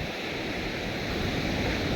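Heavy surf from big ocean waves roars steadily, a broad continuous wash of water with some wind noise, no voices.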